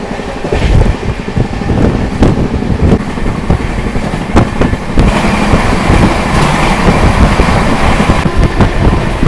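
A passenger train on the Puri to Kolkata route, with a loud continuous rumble and rattle and heavy wind buffeting the microphone throughout.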